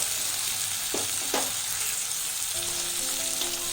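Spices and ginger paste sizzling and frying in a pan for a cabbage curry, a steady close hiss with a few stirring scrapes and tones near the end.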